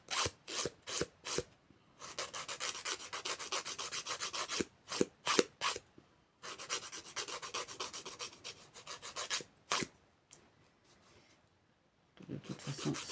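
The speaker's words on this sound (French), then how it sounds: "Ensuite, je vais prendre ma lime." A nail file rasping across press-on nails, heard up close as quick rhythmic bursts of short strokes and longer steady filing runs, separated by brief pauses.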